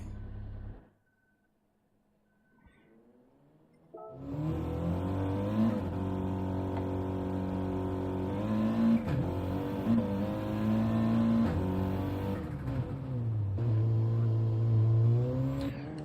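Audi TT Cup race cars heading onto the track at the Red Bull Ring for qualifying: after a brief near-silence, loud engines burst into sustained revving and accelerating, with rising and shifting engine tones that stay strong to the end.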